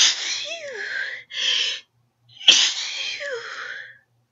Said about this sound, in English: I think the pepper's gonna make me sneeze